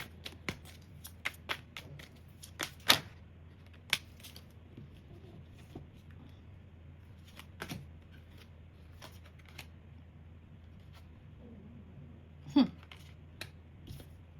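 Tarot cards are shuffled and drawn in soft, close bursts of papery flicks and snaps, scattered irregularly across a quiet room with a low steady hum underneath.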